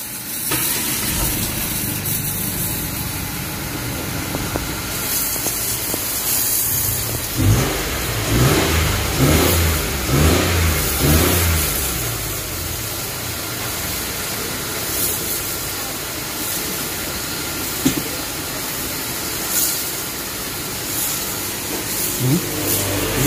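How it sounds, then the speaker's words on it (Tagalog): A Mitsubishi Mirage G4 engine turns over and settles into a steady idle after MAP sensor cleaning, revving a few times early on before running evenly with a hissing, mechanical hum. "start natin yung makina"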